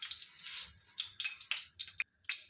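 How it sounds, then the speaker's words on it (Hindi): Soaked soya chunks squeezed by hand, giving a run of wet squishes and trickling drips, close and fairly quiet, about five or six squeezes in a loose rhythm with a brief pause near the end. "पहले हम लोग ये सोयाबीन वड़ीज को सबको ऐसे निचोड़ के ले लेंगे"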